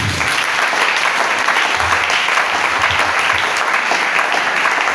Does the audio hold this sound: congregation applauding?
yes